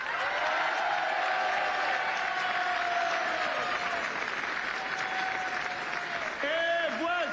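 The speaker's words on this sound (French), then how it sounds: "Je voudrais qu'on l'applaudisse très fort." Sustained applause from a large television game show studio audience fills the whole stretch, with a voice talking over it near the end.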